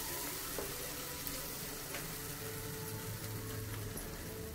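Ivy gourd curry fries in oil while being mixed, a dense, continuous hiss and bubbling crackle at moderate loudness, with faint occasional scrapes underneath and no talking.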